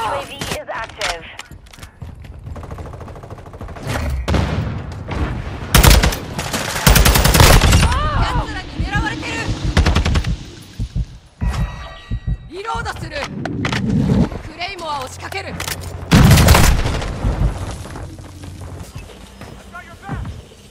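Loud, close gunfire from a TAQ 56 rifle and other weapons in Modern Warfare 2 Hardpoint on the DRC Zone 1 map, with automatic bursts and fusillades throughout, mixed with game voice callouts.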